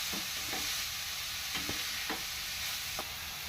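Carrot pieces stir-fried in a pan, with a steady sizzle running throughout and a few soft scrapes of the spatula at irregular intervals.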